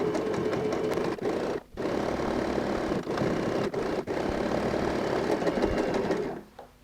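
A sewing machine runs steadily while back stitching a fabric tote bag handle, a continuous close mechanical whir with a few brief pauses and then stopping near the end.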